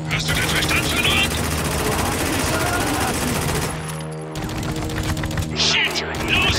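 Gunfire rattles in the video game Spec Ops: The Line, loud sustained bursts of automatic fire and explosive rumble, dense and continuous with a brief drop midway, while voices shout over the combat.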